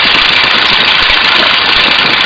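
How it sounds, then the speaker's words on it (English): Stearman biplane engine in flight during a stall manoeuvre, a loud, steady, rough roar with heavy wind rush filling the cabin, close and unbroken throughout. "If you listen to the airplane, you hear it slow down, you hear it speed up."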